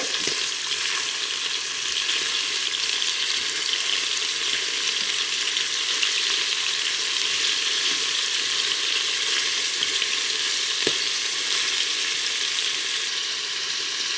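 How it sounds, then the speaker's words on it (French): Beef pieces searing in a pan for carbonade flamande, turned to brown on the other side: a steady, loud, close hiss of sizzling fat that holds throughout, with a few faint clicks and no voices. "On retourne pour faire griller de l'autre côté."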